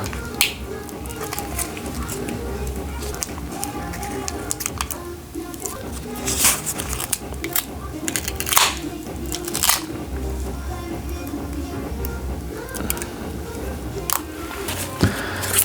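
A Google Pixel 7a phone battery is pried up from its adhesive with repeated sharp crackles and peeling snaps, close and fairly loud over constant background noise.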